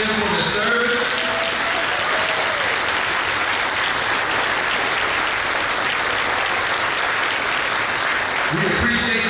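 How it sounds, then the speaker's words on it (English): A room at a military signing day breaks into sustained applause and a standing ovation for service members, with dense steady clapping and crowd noise filling the space and a voice audible near the start. "Would y'all join me in giving a round of applause and a standing ovation for every service person inside this room?"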